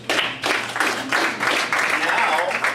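A workshop audience claps in a round of applause that swells and pulses for a few seconds, fairly close and steady, with some voices mixed in.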